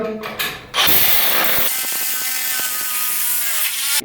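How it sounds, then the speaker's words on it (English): A loud hammer drill grinds close by while fixing a steel stud wall frame, starting with a few short bursts before settling into a steady, continuous drone. "we're going to take our hammer drill"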